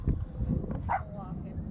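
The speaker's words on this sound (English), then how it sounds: "They bark at everything that moves." Dogs give a few short barks and yips at moderate distance, half masked under a low rumble of background noise and nearby voices.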